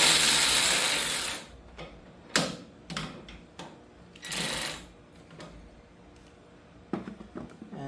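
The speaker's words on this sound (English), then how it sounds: "battery powered ratchet to put it together" A battery-powered ratchet whirs in a loud buzzing burst, then in several shorter pulses, as it runs down brake bracket bolts on a Factory Five Mk4 during a Powerstop brake install, with clicks and clanks between.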